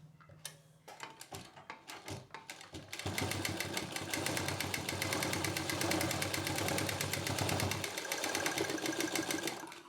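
A sewing machine stitches fabric for a mini potli bag made from leftover cloth. A few short starts come first, then a steady, fast mechanical whirr and ticking runs close and loud for several seconds before easing slightly near the end.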